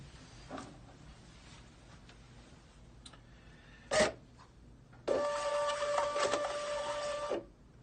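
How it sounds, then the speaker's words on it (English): A BOCA ticket printer powers up nearby, with a short clunk, then a couple of seconds of mechanical whirring and buzzing that stops abruptly, in an otherwise quiet room. "then you're going to go ahead and power up your printer"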